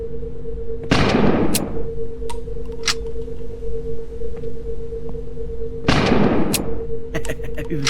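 Two sharp bursts of ghost-gun fire from a first-person shooter game, each a loud crack with a short tail, spaced several seconds apart, with faint clicks between them.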